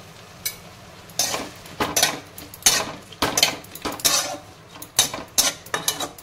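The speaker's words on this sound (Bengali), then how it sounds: "এটাকে আমি নেড়ে দেবো।" Bottle gourd peel with a pinch of turmeric is stirred in a pan, a utensil scraping and knocking against the metal in irregular bursts, close and crisp, with a faint sizzle between strokes.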